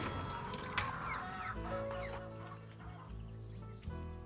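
Chickens cluck in short, scattered calls at a coop in the Nancy Drew game, fairly quiet and mixed with soft background music and ambience.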